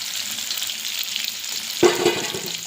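Potatoes frying in oil in a wok until reddish, a constant close sizzle that flares briefly louder as the pieces are stirred or lifted.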